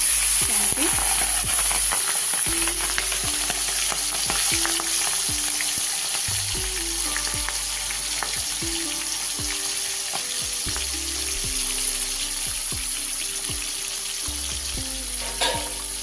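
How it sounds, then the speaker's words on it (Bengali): Prawns frying in hot oil crackle and sizzle steadily up close for a long stretch, with scattered sharp pops and occasional utensil clicks, no talking. "তেল গরম হয়ে গেছে চিংড়ি মাছগুলো ছেড়ে দেবো"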